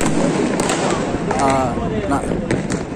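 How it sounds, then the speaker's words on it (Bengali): Fireworks burst over Dhaka during the New Year 2025 celebrations, a dense continuous crackle broken by sharper pops throughout, with people talking over it. "রাজধানী ঢাকার আকাশে এই মুহূর্তে হাজার হাজার লাখ লাখ আতশবাজি"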